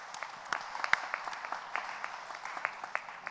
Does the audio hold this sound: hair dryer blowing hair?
no